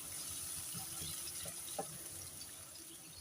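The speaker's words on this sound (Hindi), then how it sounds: "थोड़ा सा पानी ऐड कर देंगे।" Water is poured into garlic and ginger frying in a pan for an aloo baingan (potato and eggplant) curry, a steady soft hiss and pouring rush throughout, with no talk.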